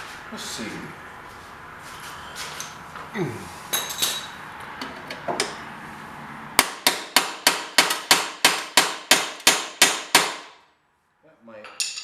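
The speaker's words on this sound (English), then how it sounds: "let me grab a hammer real quick." A hammer striking metal on a 1981 John Deere 317 garden tractor: scattered lighter taps and clinks at first, then about a dozen sharp, evenly spaced ringing blows close by, ending in a brief pause with a faint voice after.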